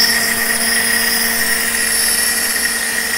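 A Shapeoko 3 XXL CNC machine sways as its gantry moves back and forth, a steady loud whine with sustained high tonal hum running continuously.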